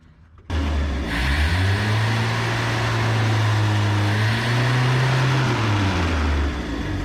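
A mini truck engine runs steadily at idle, its seized fan rubbing the bottom shroud, with a loud, continuous hum that rises and falls slightly in pitch after starting abruptly.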